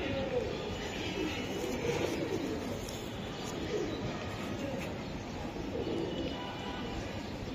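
A blue racing pigeon coos softly and repeatedly amid low, busy background noise, with faint human chatter in the surroundings.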